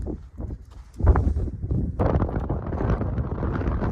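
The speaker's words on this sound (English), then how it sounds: "It's a little windy up here" Wind gusting across the microphone at the 13,114-foot summit of Imogene Pass, a high mountain pass, rising into a loud, steady rumbling buffet partway through.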